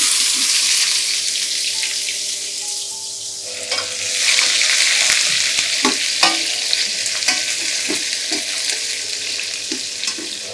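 Onions frying in a curry pan over a low flame, a continuous loud sizzle with scattered scraping and knocking from stirring that grows busier toward the end, no voices.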